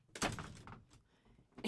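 A door closes indoors with a thunk, followed by softer knocks and shuffling at close range.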